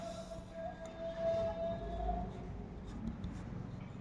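Pen scratching on paper while a geometry proof is written out, a faint continuous rubbing and scraping close by over a low steady background hum, without speech.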